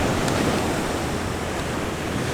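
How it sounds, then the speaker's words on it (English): Ocean waves crash onto a beach on a surf-fishing shore, a continuous loud, hissing roar of surf with no speech. "the waves are intense"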